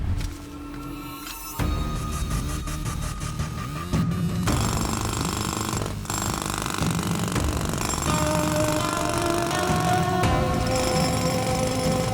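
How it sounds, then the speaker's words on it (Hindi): A power drill bores into a wall to open a hidden chamber in an action movie scene, a loud, continuous grinding and rattling drone with shifting pitch, layered with dramatic background music. "उसको ड्रिल करके खोल दो।"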